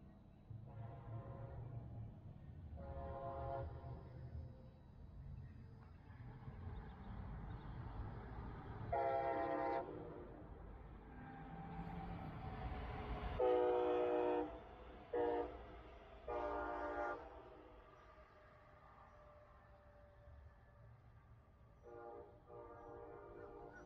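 A Brightline test train passes northbound on double track in Melbourne/Palm Bay, its horn sounding in several long blasts over a steady rumble of wheels and rail noise that swells as it draws near and then eases off.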